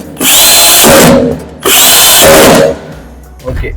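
A power screwdriver tightens a link in an MCB distribution box with two loud, sustained whirring bursts of about a second each, close up, followed by a faint rattle.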